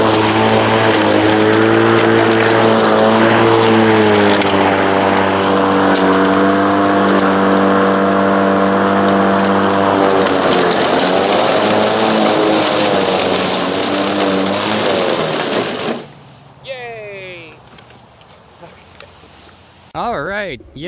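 A Powersmart 80-volt, 21-inch battery lawn mower is pulled backward through thick growth, its motor a steady droning whine under continuous nearby talk that labors and drops away near the end.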